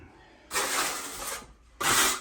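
A trowel scrapes excess plaster from a wall during damp treatment in two rough rasping strokes, the first longer, separated by a short pause; close and fairly loud.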